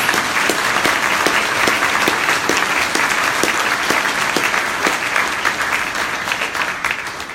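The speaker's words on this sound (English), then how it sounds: "let's give them another round of applause" A crowd at an MLK Jr. celebration applauds a choir, loud sustained clapping with sharp individual claps standing out, tapering slightly toward the end.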